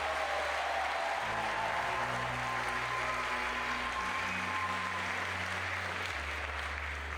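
A crowd at a La Sportiva Legends Only 2018 bouldering competition claps steadily for climbers Alexei Rubtsov and Chon Jung-won, sustained loud applause filling the space with a low musical hum underneath.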